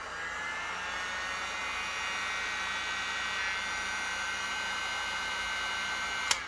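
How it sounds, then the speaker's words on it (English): Heat gun powered by a portable power station, giving a steady, even airflow whoosh with a faint electrical hum that holds unchanged throughout, ending in a brief click. "turn off the heater, and turn on the heat gun"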